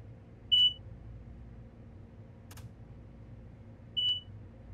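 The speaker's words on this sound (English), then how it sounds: "Beep." Train cab beep in Train Sim World on the Long Island Rail Road: two short, clear high electronic beeps about three and a half seconds apart, with a faint click between them over a low cab hum.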